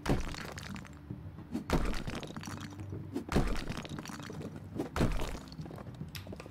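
Objects shattering and breaking apart during demolition in the video game House Flipper, with repeated sharp crashing bursts about every one to two seconds over a steady rumbling bed of debris, loud and close.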